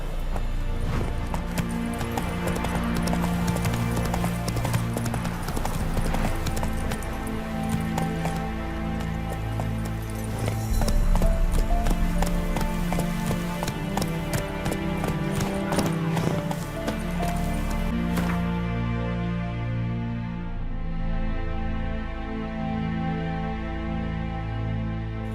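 Horse hooves clip-clop at a steady galloping rhythm in the Witcher 3 Wild Hunt game world, loud and continuous over a bed of orchestral game music, easing off near the end.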